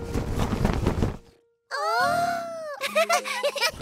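Cartoon pig Grandpa Pig snores in his sleep, a voiced, groaning snore with wavering pitch that follows a brief stretch of talk and a pause, imitated by a voice performer.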